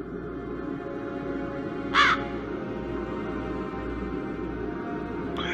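A crow in The Dark Eye: Chains of Satinav gives a single sharp caw at about the two-second mark and starts a second caw at the very end, both over a steady low ambient hum.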